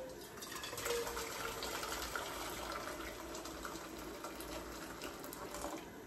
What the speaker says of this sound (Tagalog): Pakulo ako ng tubig dahil ang tawag dito, magluto ako ng udon noodles.